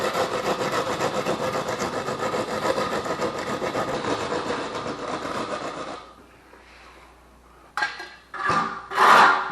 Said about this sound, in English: it's called screeding